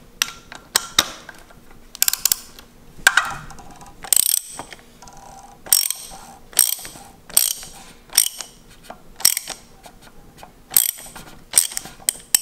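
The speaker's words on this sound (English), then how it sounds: "You're gonna grab your socket wrench and make sure that you have it set up to go loose. And then let's crack that bad boy off." A socket wrench ratchets while loosening the oil filter cap on a Jeep during an oil change, giving repeated short bursts of sharp clicking, close and clear, separated by brief pauses.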